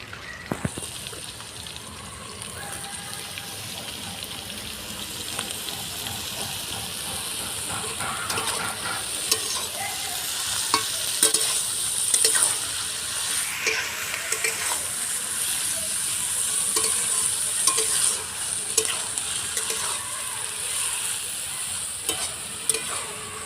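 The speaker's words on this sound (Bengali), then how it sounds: "ঠান্ডা করে গেল এবার আলুগুলো দিয়ে দেবো" Potatoes sizzle and hiss in a hot pan for mixed rice, with a steady frying crackle and occasional stirring scrapes going on for the whole stretch, and no talk.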